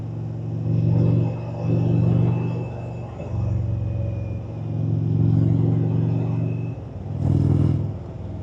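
Indian Springfield motorcycle with Rush Racing slip-on exhausts, a deep rumbling engine blipped up in about five swelling revs, each rising and easing back to a throbbing idle, heard close.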